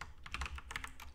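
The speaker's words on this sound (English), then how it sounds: "You can see I'm just really not good at typing on this thing." Quick, uneven typing on a computer keyboard, a run of light close clicks and taps at a quiet level with no talking.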